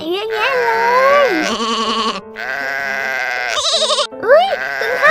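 Sheep bleating in a children's Barbie doll story set at a zoo, with several loud wavering bleats in a row, close and clear, likely voiced by a person imitating the animals.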